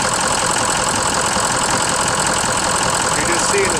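Ford 6.0 Powerstroke diesel truck engine idling with an injector leaking, a steady close rumble with a continuous clattery ticking and no change in pace.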